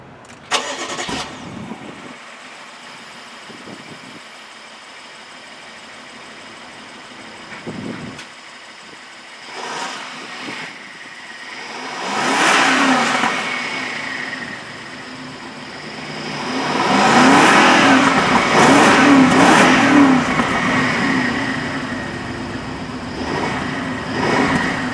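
A BMW 7-Series 4.4-liter twin-turbo V8 cranks and starts, idles, then revs up loudly twice, the second rev long and sustained, heard up close with no talking.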